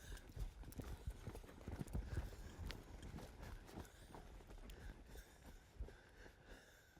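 Horse hooves thudding and clopping on dirt as a colt trains at cutting a cow, irregular quick steps and scuffs at close range, fairly faint.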